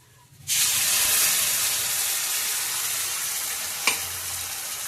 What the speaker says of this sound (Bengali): এখানে আদা রসুনের পেস্ট, কাঁচা লঙ্কা, টমেটো সব আছে, একসাথেই দিয়ে দেবো